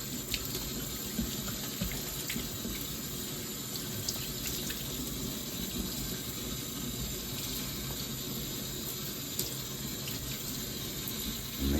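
Tap water runs steadily over a garden grabber tool being given a quick rinse after harvesting, a continuous close splashing gush lasting throughout with no talking.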